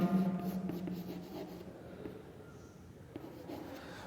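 Chalk or marker writing on a classroom board during a Hindi-language English grammar lesson, a steady close scratching run of strokes over a few seconds with no talk.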